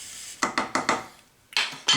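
Ham bone going into a soup pot, a quick series of five sharp knocks and clunks against the metal pot, then a short pause and two more close, crisp hits.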